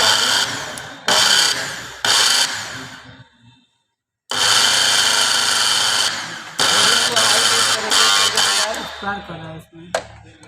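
An electric motor in a food mixer grinder with carbon brushes runs loud and harsh in bursts, switching on and off several times with short pauses and a longer gap near the middle, while a voice talks over it.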